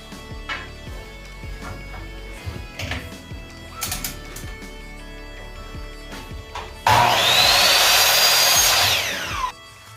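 Power saw cutting a 45-degree angle on the end of a board for a barn door kitchen island, a loud burst of whining blade lasting about three seconds after scattered knocks and handling sounds of the workpiece.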